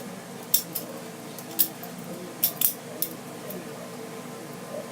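A butterfly knife is flipped in a trick, giving a handful of sharp metallic clicks and clacks spread irregularly over a few seconds, close and fairly faint over a quiet room hum.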